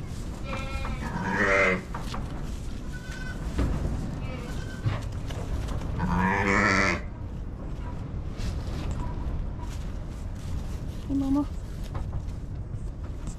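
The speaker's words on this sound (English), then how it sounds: "Come on, we want to see the lambs." Lambs, including young twins, bleat with their ewes inside a barn in spring. Two loud, near bleating calls stand out, with quieter animal sounds and a person talking in between.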